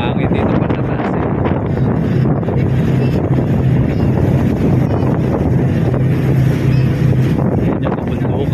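Strong wind buffets the microphone while travelling by boat near Mindoro, a loud, steady roar with a low engine rumble underneath throughout.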